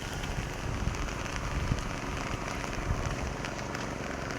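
Heavy monsoon rain pours down in Konkan, around Devgad in Sindhudurg, a steady, dense, close hiss of drops hitting surfaces that runs without a break and with no voices.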